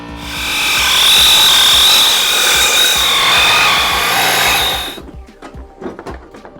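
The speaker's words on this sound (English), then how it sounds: "I'm going to break out the old air wrench and set you guys down so you can watch me pop these off" Pneumatic air wrench spinning off steel bumper bolts on a Jeep JL 4xe, a loud sustained high whine for about five seconds, then stopping abruptly and leaving light clanks and handling noises.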